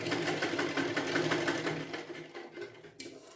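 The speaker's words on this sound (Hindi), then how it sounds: "नापने के बाद अब हम यहाँ पर सिलाई लगा लेंगे" A sewing machine stitches a blouse in a steady rapid whir of needle strokes that slows and fades toward the end, close up with no voices.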